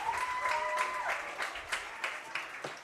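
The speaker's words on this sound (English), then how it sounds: "the crowd's going to give him a loud roar" Crowd at a minor-league baseball game between the River Bandits and Clinton LumberKings, clapping and cheering in scattered bursts at moderate distance, with a faint tone and background murmur underneath.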